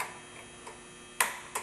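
Snap ring clicking into its seat on a Honda CRF50/XR50 motorcycle suspension during a kit install, two sharp metallic clicks near the end after a faint quieter tick, close up.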